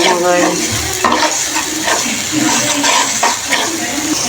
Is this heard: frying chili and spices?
yes